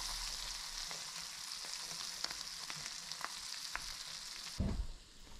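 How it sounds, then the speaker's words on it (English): Brussels sprouts frying cut side down in a pan of bacon fat, giving an even close sizzle with scattered pops and crackles, then a brief thump and a quieter tail. "sprouts are going to go right into the same pan with the bacon fat"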